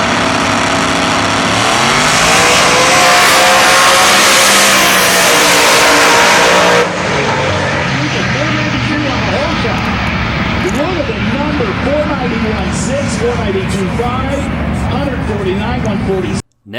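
Two Pro Mod drag cars launch side by side in a heads-up eighth-mile race, a pro-charged small block Ford Fox body against a 2000 Corvette, with a deafening roar that drops to a loud, sustained wail of engines pulling away.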